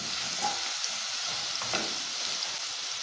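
Garlic fries in a pan for a tajine-style pizza, giving a brief, even, close sizzle with a faint crackle and no talk.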